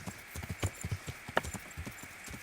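Horse hooves clip-clop in a quick, steady walking rhythm in the video game Kingdom Come: Deliverance, fairly close but quiet, with no other sound over them.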